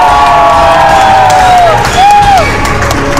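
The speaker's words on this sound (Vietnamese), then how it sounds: "Một tràng pháo tay thật lớn, chào đón Tân Lan và Tân Gia Nhớ" A crowd cheers and applauds to welcome a bride and groom on stage during a comedy wedding sketch. The sound is loud and continuous, with whistling, rising and falling tones over a steady wash of clapping and voices.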